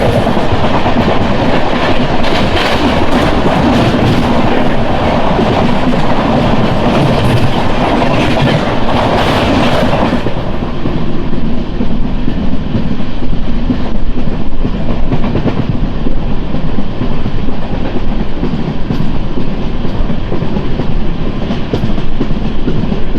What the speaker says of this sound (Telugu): అదిగోండి అక్కడ ఒక ట్రైన్ వెళ్ళిపోతుంది చూసారా